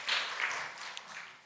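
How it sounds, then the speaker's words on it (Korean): Brief applause from a church congregation for the choir, fairly faint and distant-sounding, swelling at the start and then thinning out into scattered claps. "우리 한 번 더 박수로 격려해 주셨으면 좋겠습니다"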